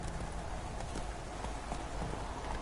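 Faint, quick hoofbeats of a horse in The Witcher 3 video game clop along in a steady rhythm over a soft background hiss.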